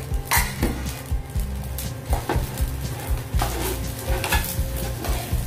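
Spatula stirring fried rice with shrimp and chicken in a pan, giving repeated scraping strokes and clanks over a soft, steady sizzle; close and fairly quiet, no talking.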